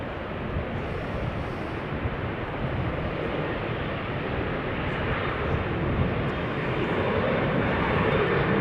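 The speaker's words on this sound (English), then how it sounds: "this is KLM flight 1545 going to Malaga" A KLM airliner on the ground at Amsterdam Schiphol Airport gives off a steady, broad jet engine roar that holds constant and slowly swells slightly, heard from some distance with no talk.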